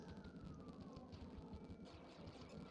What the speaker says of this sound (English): that's a weird siren